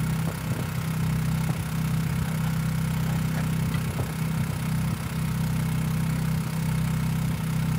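An electric boat motor drives a sailboat at about 2.5 knots on the Intracoastal Waterway, giving a steady low hum over constant broadband water and wind noise.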